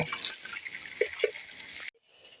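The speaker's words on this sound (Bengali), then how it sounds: "প্রথমে একদম অল্প করে জল দিয়ে হালকা হাতে আমি ধুয়ে নেব" Drumstick flowers being gently washed by hand in a little water, soft close splashing and trickling with a couple of drips before it stops abruptly.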